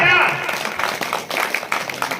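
At a comic poetry gathering, an audience breaks into a short patter of applause that trails off. A voice calls out loudly over the clapping at the start.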